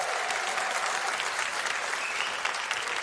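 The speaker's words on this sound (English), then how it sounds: "The applause of people who don't have to live with me there." A live comedy audience at a stand-up show applauds in a dense, continuous roar of clapping that holds steady for three seconds, with faint cheers mixed in.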